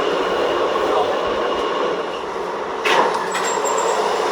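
Rumbling New York Z subway train noise fills the clip, a steady roar of wheels and motor with a brief hiss and a faint high squeal near the end.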